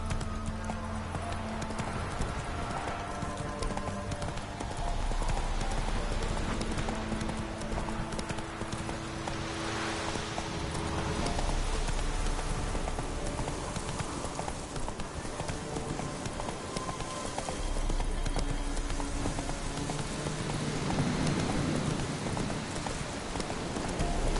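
Horse hooves gallop in a steady, fast clip-clop rhythm in a PS4 video game, loud and continuous with a dense game soundscape and occasional whinnies behind it.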